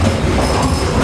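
Walt Disney World Railroad train at the Magic Kingdom pulling into Frontierland Station, a loud, close, steady rumble of rolling wheels and carriages with no talk.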